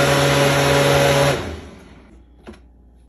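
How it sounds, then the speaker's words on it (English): A blender whirs loudly and steadily as it blends almonds, dates, vanilla, cinnamon and water, then winds down and fades away, followed by a couple of faint clicks. "Add your almond in a blender."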